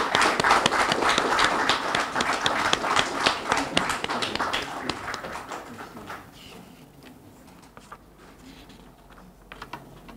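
Dense applause from an audience at a Queen's Birthday investiture ceremony runs strongly for several seconds, then thins out and fades to scattered claps.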